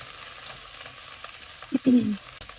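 Fenugreek leaves fry in a pan on a gas stove with a faint, steady sizzle, broken by one brief louder burst of sound near the end.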